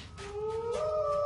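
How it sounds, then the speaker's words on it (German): Wolves howl in an animated children's cartoon, long rising tonal howls that overlap and swell steadily from moderate to louder, heard alone without talk. "Wölfe, die sind ganz in der Nähe."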